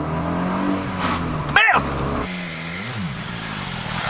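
A 2019 BMW S1000RR motorcycle is ridden at full throttle at a hill-climb race, with a steady engine drone and a rising note near the end. A man swears briefly in the middle.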